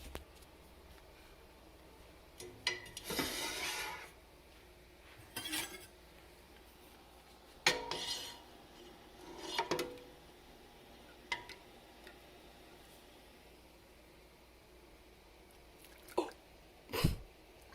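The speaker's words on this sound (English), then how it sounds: "I'm going to take out the rest of my jars, line them up, and then fill them up" Glass jars set down and lined up on a counter, giving scattered clinks and knocks in short bursts with quiet gaps between them, fairly close and with no talking.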